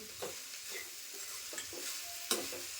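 Sliced okra sautéing in a pan, a soft, quiet sizzle with faint stirring scrapes and one brief sharp clink of the spoon near the end.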